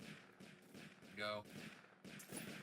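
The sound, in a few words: mounted gun firing in Roblox Tower Defense Simulator, video game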